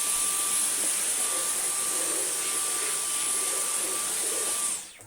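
A Dyson cordless stick vacuum runs with an extension wand fitted, producing a loud, steady high-pitched whine with a constant tone that cuts off sharply near the end, close by with no talking.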